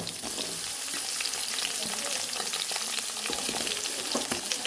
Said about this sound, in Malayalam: നമ്മളെടുത്ത് വെച്ചിരിക്കുന്ന കൊച്ചുള്ളി ഇഞ്ചി വെളുത്തുള്ളി ഇതെല്ലാം കൂടെ നമ്മൾ ഒന്ന് ചുട്ട് വഴട്ടുവാണ്